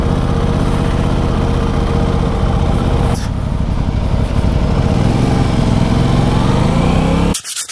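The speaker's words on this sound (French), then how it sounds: "Donc on est sur un moteur bicylindre" An Aprilia RS 660 twin-cylinder motorcycle engine, in an A2-restricted 95 hp version, idles with a loud, steady, close-up throb that runs unbroken before cutting off abruptly near the end.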